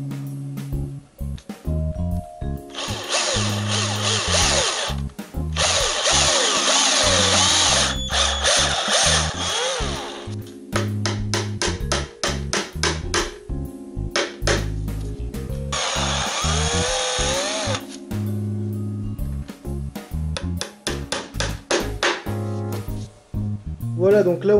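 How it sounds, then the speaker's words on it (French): Power drill boring half-depth dowel holes into a wooden barred bed frame, two long sustained whining runs separated by sharp clattering knocks and handling noises, loud and close with no talking over the drilling. "faut pas percer trop profond, le but c'est de le percer à moitié hein"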